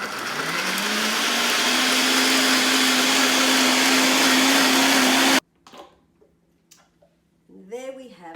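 A blender whirs loudly and continuously for about five seconds, its pitch rising as it spins up while mixing a smoothie, then cuts off abruptly, leaving quiet clicks and brief talking.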